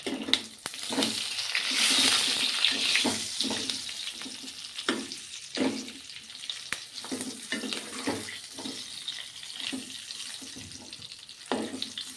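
Green chillies frying with sesame seeds, mustard seeds and asafoetida in a hot pan, giving a steady broadband sizzle punctuated by sharp crackles and pops, with no talking.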